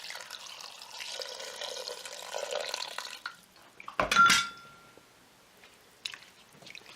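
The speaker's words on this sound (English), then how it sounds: "And now you need to add in some water." Water poured into a cooking pot for chicken kabsa, a steady splashing stream for a few seconds, then a sharp metallic clank of the pot and a few scattered drips.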